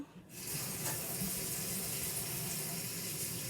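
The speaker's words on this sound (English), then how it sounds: "Let me wash my brush." Tap water runs steadily into a sink as a paintbrush is rinsed, a loud continuous splashing hiss that starts abruptly and carries on alone.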